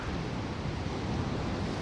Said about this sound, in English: Some spectacular looking waves crashing against the beach.